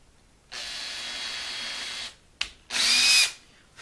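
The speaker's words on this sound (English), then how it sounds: "I'm just letting the drill bit do the work." A power drill whines steadily for about a second and a half, stops, then runs again in a short higher-pitched burst, close and loud, boring into a guitar headstock for tuner installation.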